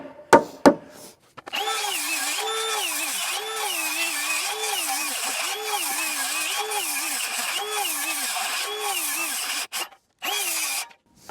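A power tool rips timber into wedges for an oak-trussed garage build, a steady close whine that dips and rises in a regular rhythm, with a few sharp knocks before and after.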